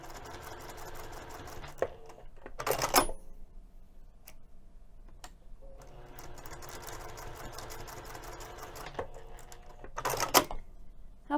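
A sewing machine runs in two long bursts while top stitching a wrist strap tab for a bag or pouch, with a close, steady mechanical whir broken by sharp clicks and a pause between runs.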